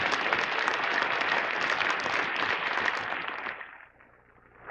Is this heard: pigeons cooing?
no